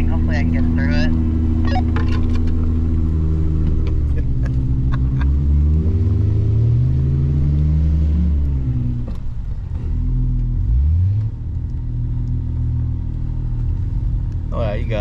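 A Jeep engine climbs a snowy road in Utah, rumbling up close with revs repeatedly rising and falling, while voices come in briefly.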